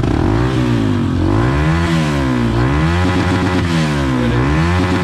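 A stock Honda CRF 150L engine fitted with a Juken ECU revs hard and loud up close toward its limiter, its pitch climbing and dropping in repeated surges without pause.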